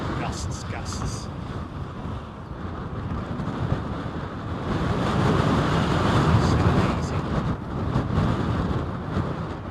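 Strong wind gusts buffet an outdoor microphone at Heathrow airport during Storm Isha, a continuous roaring rush that swells and eases, with faint voices under it.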